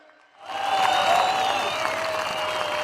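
A large outdoor political rally crowd in Turkey bursts into applause for the pensioners after a moment of quiet, loud dense clapping with a faint crowd roar and whistle-like tones sustained to the end.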